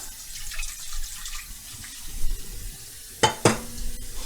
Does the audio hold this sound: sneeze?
no